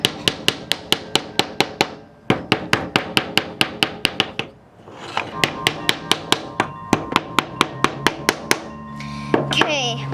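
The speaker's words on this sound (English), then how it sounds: "that's when the hammer comes in" Rapid, steady hammer taps on wooden kit pieces of a Lowe's Build and Grow castle kit, a long run of sharp knocks with a brief pause, then more blows and some scraping near the end.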